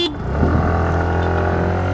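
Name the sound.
scooter horn honked three times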